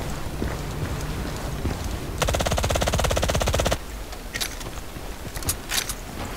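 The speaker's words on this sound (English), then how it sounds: "So now we're going to move on to long range full auto." Long-range full-auto fire in Battlefield Play4Free, a sustained, rapid, evenly spaced burst of loud gunshots that lasts about a second and a half, followed by scattered quieter impact sounds.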